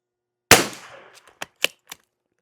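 Several rifle shots from a Tikka firing CCI SV ammunition: one loud close crack with a decaying tail, then four sharper, quieter reports in quick irregular succession, no voices.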